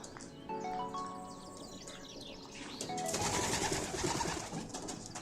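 Ukrainian post pigeons coo in low, rolling calls close by, followed by a burst of flapping wings and scuffling that fills the second half.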